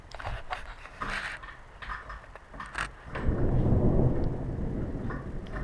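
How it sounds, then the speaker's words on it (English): Thunder rumbles outside during hot, smoky weather at a framing site, a low rolling roar that swells and lingers after some scattered knocks and clatter, with no talk. "I don't know if you guys can hear that thunder out there."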